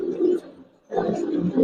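Silver and Beji pigeons cooing close by, two short low warbling coos separated by a brief gap.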